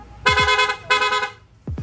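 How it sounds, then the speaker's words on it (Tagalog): Two long, bright horn blasts from a Honda Click V3 scooter's rapid horn, in quick succession, loud and close, each lasting about half a second with a short gap between. "Rapid horn."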